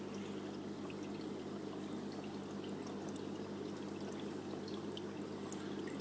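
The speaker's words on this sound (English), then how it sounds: "So the water is flowing over down here," Continuous splashing and trickling of water pouring steadily into an aquarium sump, with a low hum beneath, faint and even throughout.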